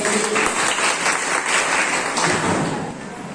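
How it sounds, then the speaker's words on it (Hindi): A village crowd at a gram panchayat meeting on groundwater conservation claps loudly and continuously, with occasional thumps and a slight fade at the close. "बजाइए ताली"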